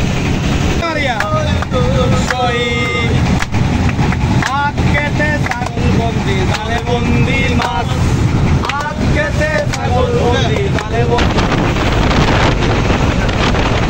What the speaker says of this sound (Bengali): হাওর ছিল উত্তাল হাওরের মধ্যে দিয়ে আমাদের নৌকা চলছে হেলে দুলে গন্তব্যস্থলের দিকে।